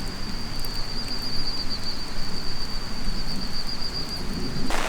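Steady overnight rain pours down outdoors on the Blue Rag Range Track in the high country, a dense, even hiss throughout with no voices, joined by a brief louder rush at the very end.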